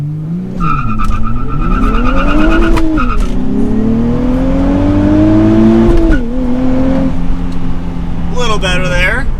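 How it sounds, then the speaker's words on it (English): A 2023 Nissan Z with a manual gearbox launches hard, its engine revving loudly with rising and falling pitch as the tires chirp and spin, with a brief shift break midway and more squealing near the end. "We're definitely getting some more wheel spin off the line."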